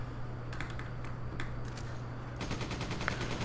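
Gunfire in the video game Resident Evil 5 comes in quick bursts of sharp shots over a steady electronic hum, getting denser and more rapid toward the end.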